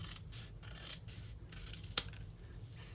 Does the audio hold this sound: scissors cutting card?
yes